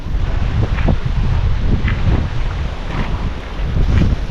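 Strong wind on a turkey farm roars steadily and loudly, buffeting the microphone throughout with no break.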